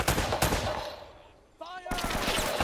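Rapid bursts of gunfire from the video game Uncharted crackle loudly, a dense volley followed by a brief lull and then more sustained shooting.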